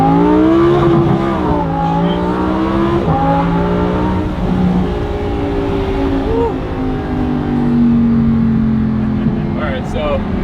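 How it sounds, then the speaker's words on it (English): A sports car engine revs and accelerates hard in Corsa mode with its exhaust opened up, roaring and rising through several gear changes, loud and close, with a voice briefly heard. "I guess the exhaust opens up with these modes, so shall we do a little rip?"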